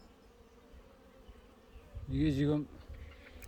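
Honeybees hum around a beehive during a forced swarm split, with a steady low drone rising into a louder, close buzz for about half a second. Someone speaks briefly under the buzzing.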